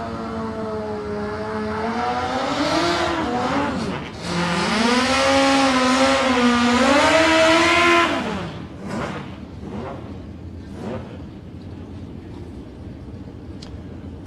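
Racing motorcycles, a Honda CBR 1100 and a Suzuki B-King, during qualifying at South Coast Raceway. A loud engine howl climbs and shifts pitch for about eight seconds, then fades to a distant drone.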